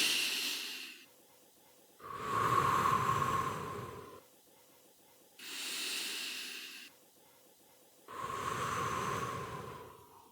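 Slow, deliberate breathing during a calming exercise: three long, loud inhalations with a hissing, airy rush, each followed by quieter exhalations and pauses, close to the microphone with no talking.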